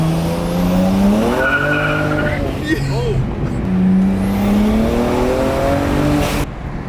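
A BMW 335i E92 on nitrous accelerating hard in second gear, a loud close engine climbing through rising revs with a shift and tire chirp, someone talking over it.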